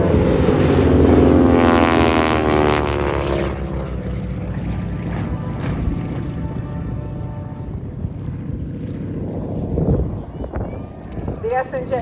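Beech 18 (JRB) and AT-6 Texan (SNJ) propeller planes make a close formation pass together at an air festival. A loud, heavy droning roar swells early, then fades and thins as they pull away, with voices faintly underneath.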